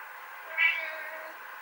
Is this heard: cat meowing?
yes